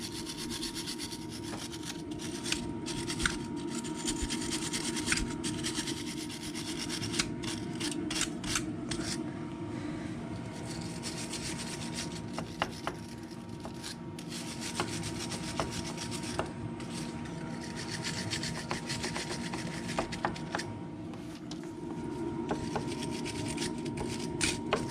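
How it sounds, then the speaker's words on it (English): Steady scraping and rubbing as mud is cleared from the nuts and bolts on a Yamaha ATV during CV axle replacement, a continuous close gritty rasp with short sharp strokes running throughout, with no talk. "we need to scrape the mud off these nuts and bolts so we can get them off with no issues"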